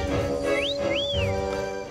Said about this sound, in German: Das Pfeifen ist irgendwie immer in der Nähe von dieser Tonikum-Frau.